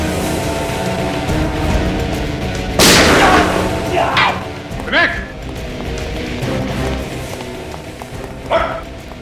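One loud gunshot cracks out in a tense crime-drama scene, a sharp, brief blast set among continuous voices and background sound.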